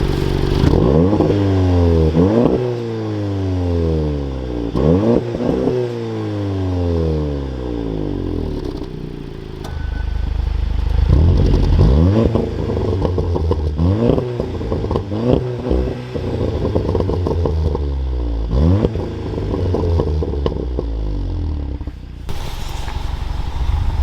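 A VW Mk7 Golf R with its center resonator deleted revs repeatedly at a standstill, each blip rising sharply and falling back to a burbling idle, loud and close, several rev bursts in a row.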